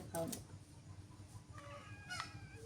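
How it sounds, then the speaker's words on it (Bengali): Young chickens give a few faint, thin high peeps near the start and again toward the end, over a low room murmur. "এই মুরগির বাচ্চা রে"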